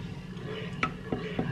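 A spoon stirs ube halaya mixture with evaporated milk in a pot, giving a few soft scraping clinks against the metal amid a quiet kitchen background.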